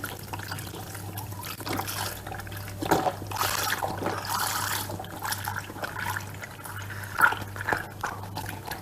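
Milk from a one-litre carton pours steadily onto a cake mixture in a glass baking dish, a continuous close trickling and splashing that swells and eases over several seconds.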